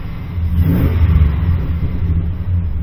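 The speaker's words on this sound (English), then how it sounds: "she's got some kind of exhaust on this thing" A 2006 GMC Sierra 2500 pickup with a 6.0 engine and aftermarket exhaust revs up loud and close, a deep rumbling roar that surges then holds steady over a few seconds, with no talking.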